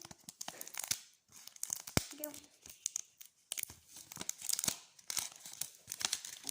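Crinkly plastic package being torn open and crumpled by hand, with irregular crackling bursts close to the microphone and a child-like voice talking over it.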